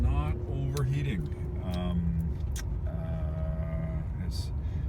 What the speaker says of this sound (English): here is the driving video from the Cordoba